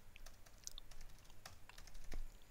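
Quiet typing on a computer keyboard while entering a name during a MAUI Linux 17.06 install, a run of light, irregular key clicks close by in a hushed room.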